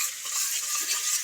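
Onions frying in oil in a pan being stirred, a bright steady sizzle with soft scraping movements underneath, close and continuous.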